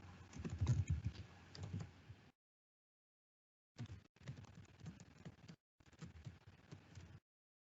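Keystrokes on a computer keyboard entering commands in R, with quiet, close clicking in several short bursts separated by silent gaps.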